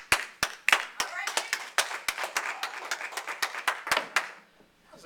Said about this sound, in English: Let's give Patrick some applause for that